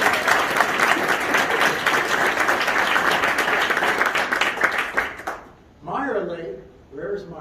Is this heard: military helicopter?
no